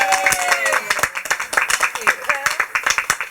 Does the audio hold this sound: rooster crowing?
no